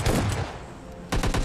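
Gunfire from an S12K shotgun in the mobile game PUBG Mobile Lite: a quick cluster of sharp shots, then a short pause, then another rapid burst of several blasts, fairly close.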